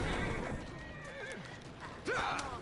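Horses neigh and whinny in an Assassin's Creed Syndicate game scene, a loud rising whinny standing out near the end over a busy bed of game sound, with hooves running throughout.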